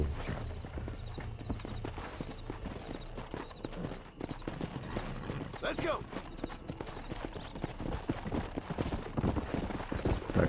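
Horse hooves clip-clopping in Red Dead Redemption, a steady rhythmic trot of repeated hoof strikes close by, with someone talking over it at times and a brief whinny.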